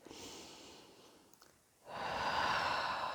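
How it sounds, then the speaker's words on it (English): Breath blown into cupped hands: a soft exhale, a short pause, then a longer, stronger airy rush close to the microphone. "you blow into your hands"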